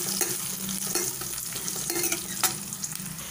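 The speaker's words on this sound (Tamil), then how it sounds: "இப்போ நல்லா வெங்காயம் நல்லா வதங்கட்டும்." Chopped onions frying and being stirred in a pan for a drumstick and raw-mango sambar, a steady close sizzle with repeated scraping stirs and one sharper clatter, no voices.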